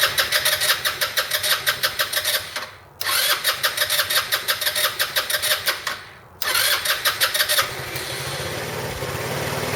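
A Roketa scooter engine cranks in rapid rhythmic pulses, pauses, cranks again twice, then catches and settles into a steady close idle.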